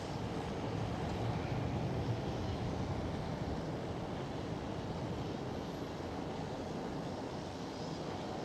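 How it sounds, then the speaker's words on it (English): A Transavia Boeing 737 arriving at Amsterdam Schiphol gives a faint, distant, steady engine rumble that hangs evenly throughout, with no speech. "There is Transavia 737"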